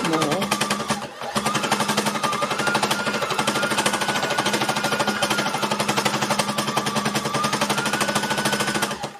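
An embellishing machine needling fabric together, a loud rapid mechanical rattling chatter that runs steadily throughout with one brief pause early on.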